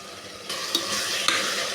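Tomatoes, onions, curry leaves, coriander and spices sizzle in a pan for tomato rice. The steady frying brightens after a moment, and two quick utensil clinks come from the stirring.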